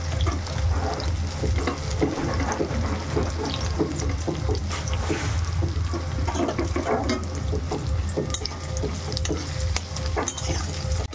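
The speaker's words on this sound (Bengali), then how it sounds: "পেঁয়াজটা লাল লাল করে ভাজা করব আমি।" Onions fry in hot oil in a pan for a Bengali mutton curry with potatoes, giving a steady, close, dense sizzle with scattered stirring scrapes throughout, and no one speaking.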